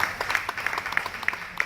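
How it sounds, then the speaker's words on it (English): Scattered, fairly quiet applause, with individual claps standing out in a loose, irregular rhythm from a small audience. "Give them another big round of applause"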